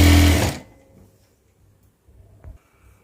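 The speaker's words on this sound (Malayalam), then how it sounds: "അപ്പോൾ അടിഭാഗം നമുക്ക് ആദ്യം ഒന്ന് മടക്കി അടിച്ച് എടുക്കാം." A sewing machine stitches the folded bottom hem of a piece of fabric in a short, loud whirring burst. It stops abruptly, and soft handling clicks and rustles follow in near silence.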